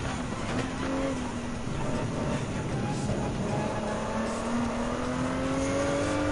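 Gr.3 GT3 race car engines droning on the final lap at Deep Forest Raceway in Gran Turismo 7, a steady loud whine with rising and falling engine pitch, continuous and without talk.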